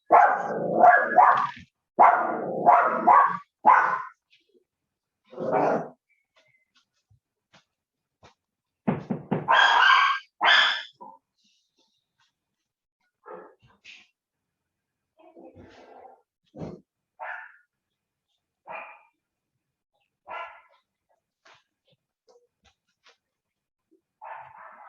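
A dog barks in loud bursts, several quick barks at first, then a second flurry, followed by scattered fainter single barks and yelps spread over a long stretch with silence between them.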